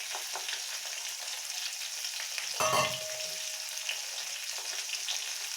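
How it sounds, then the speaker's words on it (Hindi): Ridge gourd with leftover masala frying in a pan, a steady bright sizzle close by, with one brief clunk and scrape midway. "यहाँ पे मैंने सारी तोरी को डाल दिया है और जो मसाला बचा था उसको भी मैं इसके ऊपर डाल देती हूँ"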